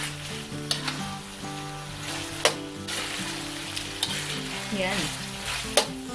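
Squid adobo sizzles and crackles steadily in a hot pan while being stirred, with occasional sharp utensil knocks against the pan, close up, and a short spoken word briefly heard.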